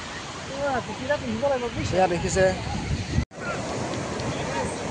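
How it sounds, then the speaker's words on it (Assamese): Waves of the Arabian Sea wash continuously in a broad, rushing hiss, with wind buffeting the microphone and a person speaking briefly over the surf. "বন্ধুসকল, দেখিছে আমি বৰ্তমান সাগৰত আছোঁ।"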